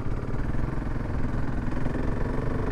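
A KTM 690 Enduro R single-cylinder motorcycle engine thumps steadily while riding, a continuous close, low rumbling drone with wind noise, no talking.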